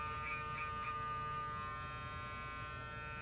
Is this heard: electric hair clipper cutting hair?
yes